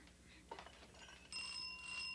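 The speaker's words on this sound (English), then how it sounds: "That's a doorbell." A bright metallic bell rings with a sustained shimmering tone over faint background noise, fairly quiet, after a soft brief clatter.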